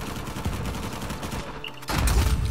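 Rapid bursts of Mettler fire in the Uncharted 4 video game, dense overlapping shots that dip briefly and then surge back louder near the end, with a busy game mix behind them.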